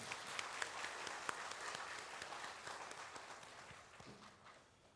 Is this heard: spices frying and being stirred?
no